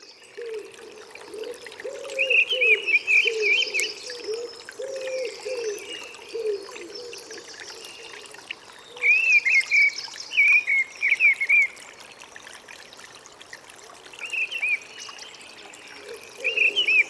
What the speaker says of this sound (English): this is a mistle thrush singing from the top of a treetop in Rosstellan Wood in East Cork with a stream